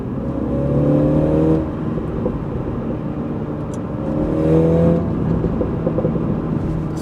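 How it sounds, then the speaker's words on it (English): A 2019 Mini John Cooper Works revs twice, each rise swelling loudly then falling back to a rumbling idle, with a few faint crackles from the exhaust between the revs. "the exhaust. It actually goes pop, as you can hear there."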